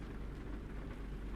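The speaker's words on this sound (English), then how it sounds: "It's raining like a son of a bitch" Steady rain in the trucking game American Truck Simulator, a dense, even wash of falling water with low rumble, constant and moderately loud with no voices.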